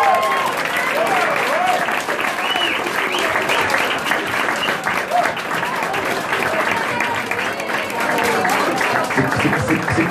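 An audience claps steadily at a finals event, a dense, even patter of many hands going on without a break, with voices talking over it.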